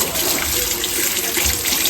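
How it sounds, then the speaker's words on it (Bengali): Tap water runs steadily over cut fish being rinsed, a constant close splashing hiss with faint handling beneath, no talking. "কেটে তারপর ধুয়ে পরিষ্কার করে নেবো।"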